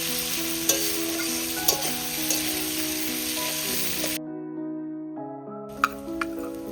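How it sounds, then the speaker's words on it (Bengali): Chopped onions frying in a pan for duck curry, giving a continuous even sizzle with a few light taps, over a steady background tone; the sizzle cuts out briefly and then returns. "পেঁয়াজটা ভালো করে ভেজে নিতে হবে"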